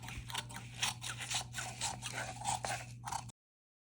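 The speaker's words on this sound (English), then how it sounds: "Now I'm going to cut the front armhole." Scissors snip and scrape through fabric at the front armhole of a shirt dress bodice, a close, quiet series of rapid cuts over about three seconds.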